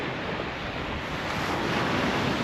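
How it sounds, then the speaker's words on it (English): Surf rolls onto a sandy beach at Hartlepool Headland as a constant broad rush, with wind buffeting the microphone and no voices. "I'm going to show you the beach"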